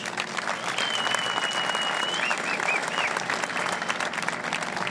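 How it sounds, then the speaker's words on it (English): Crowd applause welcoming the mayor of Boston, Martin J. Walsh, at the Grand Parade of Sail aboard a ship, steady and full for several seconds with a faint whistle and scattered cheers running through it. "a huge round of applause for the mayor of Boston, Martin J. Walsh"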